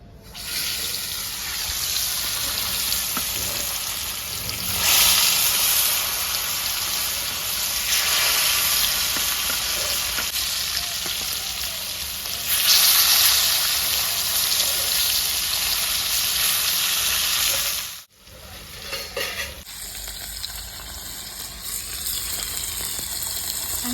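Rui fish fried in hot oil until red and crisp, giving a steady, loud, close sizzle throughout, broken by a brief dip near the end before the hiss resumes.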